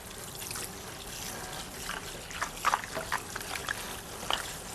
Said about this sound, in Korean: 머리를 헹구실 때에는 모발에 남아있는 일재가 다 헹궈질 수 있도록 샤워기의 수압을 이용해서